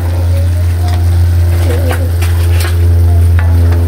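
Spicy halang-halang native chicken with chili sizzles steadily in a pan while it is stirred, with scraping stir strokes over a loud, constant low hum.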